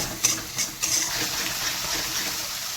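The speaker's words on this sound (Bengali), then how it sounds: "এই জলটা মারিয়ে আমি ফাইনালি জল দেবো" Water is poured into a pan of fish curry with mustard paste, a brief splashing gush at the start followed by a steady, close, hissing trickle.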